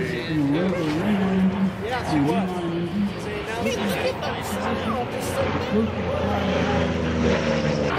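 A Curtiss P-40 warplane drones through a flyover at an air show, its engine a steady, moderately loud rumble with shifting pitch, while people talk nearby over it throughout.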